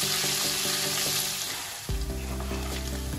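Diced potatoes frying in oil give a loud, hissing sizzle. Partway through, a low steady drone with a pulsing hum sets in beneath it, and nobody speaks.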